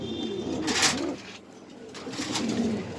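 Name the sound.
pigeons cooing at a pigeon farm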